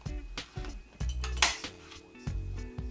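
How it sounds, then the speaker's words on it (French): A corner rounder punch cutting the corners of a white scrapbooking page, a few close, sharp metallic clacks and crunches in an irregular rhythm, each press followed by a brief release. "Je coupe les bords grâce à la perforatrice d'angle rond."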